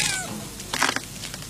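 A cat meows clearly and close in a quiet domestic room, one drawn-out cry followed by a shorter second call, with no talking over it.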